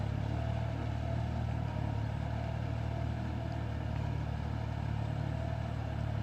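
A Kubota L4018 mid-size tractor tills soil in a farm field, its engine a steady, droning hum with faint clatter, continuous and moderately distant, with no talk.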